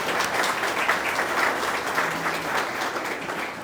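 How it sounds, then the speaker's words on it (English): Steady applause from a crowd gathered for a baseball team's farewell announcement in Kinston, sustained and fairly dense throughout, with no one speaking over it. "Give yourselves a round of applause."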